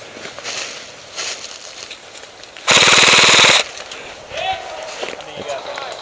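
Airsoft guns fire in a woodland skirmish: a loud, close rapid burst of about a second stands out, with lighter scattered shots and quiet voices around it.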